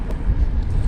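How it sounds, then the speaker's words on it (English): Strong wind buffeting a microphone on a kayak out on the water, a low, gusty rumble that swells and fades over a brief moment. "The wind keeps blowing me this way."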